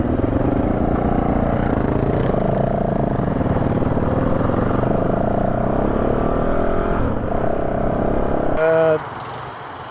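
A 2021 Yamaha WR450F dirt bike engine runs steadily and loudly during its break-in, holding a constant drone before cutting off near the end, when a brief voice is heard.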